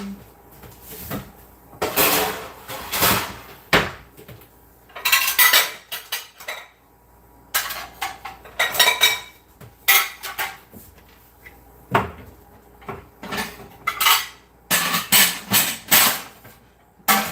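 Dishes, pans and cutlery clatter and clink in irregular bursts nearby, with short pauses between the clanks.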